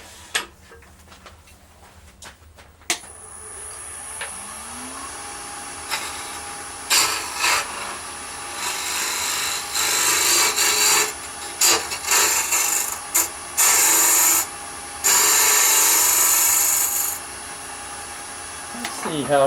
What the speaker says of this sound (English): One of my favorite tools for this job, whew, that's ugly, is my round nose scraper.